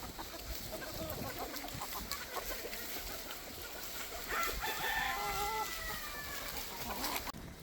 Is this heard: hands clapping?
no